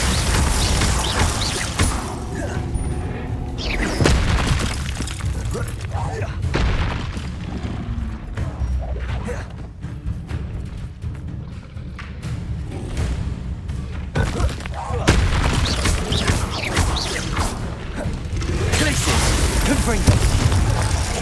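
Confringo blasting spells detonate in Hogwarts Legacy combat: loud, dense booms and crackling bursts pile up one after another, with a brief quieter lull in the middle before the blasts swell again.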